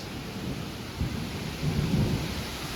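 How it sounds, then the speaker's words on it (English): Thunder from a nearby lightning bolt during a tornado storm in Lower Burrell, deep low rumbles rolling under steady heavy rain and wind noise, with a sharper crack-like swell midway, no voices. "Bolt of lightning."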